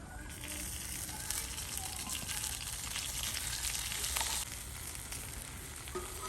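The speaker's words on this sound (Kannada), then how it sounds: "ಮೀನು ಫ್ರೈ ಮಾಡ್ತಾ ಇದ್ದೀನಿ." A large fish frying on a banana leaf with a little oil, a dense steady sizzle close up, holding at an even loudness throughout.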